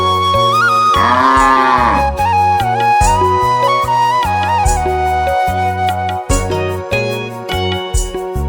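Cattle on a village farm low in long, loud, drawn-out moos, several calls following one another close by with little else in the background.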